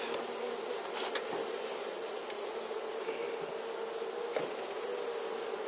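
Honeybees buzz continuously and close up inside a beehive with split supers. The dense, steady drone is broken by a few brief louder passes of single bees, and no one speaks.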